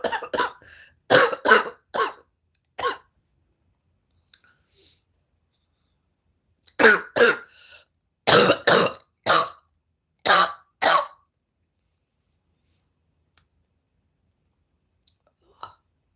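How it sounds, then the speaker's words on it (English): Several sharp coughs in short bursts, a cluster early on and another run a few seconds later, close by, followed by quiet. "Same kind of cough I had before."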